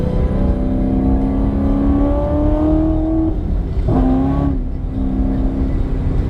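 Chevrolet Camaro ZL1 1LE engine revving hard while accelerating in the rain, loud and close, its pitch climbing steadily, dropping briefly, then rising again with no talk.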